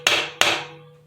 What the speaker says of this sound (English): I can use this rawhide hammer,